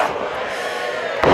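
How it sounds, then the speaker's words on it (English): A wrestling crowd at a WrestleCon 2020 match between MJF and Ethan Page roars steadily on its feet, a dense, continuous wash of cheering that surges louder near the end. "The crowd is on their feet."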